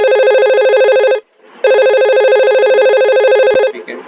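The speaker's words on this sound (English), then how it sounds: "here it is ringing." A desk telephone on an internal office line rings loudly and close, with two long electronic ringing bursts separated by a short pause and a clipped start of a third.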